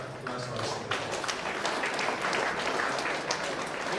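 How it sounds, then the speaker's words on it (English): Audience applause for a guest of honor at a two-day national conference on new media: a moderately distant, steady wash of many hands clapping that swells briefly and holds evenly. "Let us give her a bigger round of applause also."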